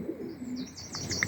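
Pigeons in a stock loft bedded with barley straw coo in low, soft throaty notes close by, with higher chirps and whistles sprinkled over the top during the brief moment.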